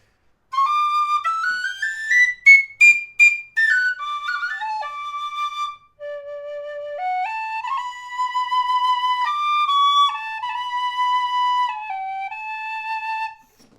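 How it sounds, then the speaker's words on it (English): A low whistle plays a slow melody of sustained, stepping notes, loud and close, with a short pause midway through. "I'm turning so that I'm not just blasting into the mic because it's not a quiet whistle"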